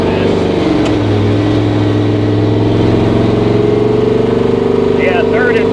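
A 1000hp 1959 Rambler struggles at about 50 mph, its engine droning steadily and loudly with a strained, uneven tone and constant road and wind roar underneath.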